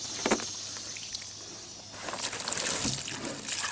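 Water poured from a gallon jug onto a potted plant in a container trickles and drains down into a reservoir beneath, a soft splash early, then a steady gurgling flow that grows louder and continues to the end, no talking.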